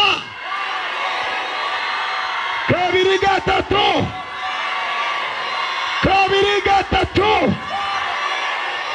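A church congregation shouts hallelujah in two loud collective bursts of voices, separated by a stretch of a speaker talking over a reverberant hall.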